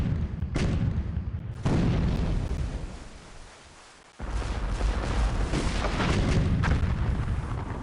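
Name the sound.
ship cannon fire in the video game Port Royale 2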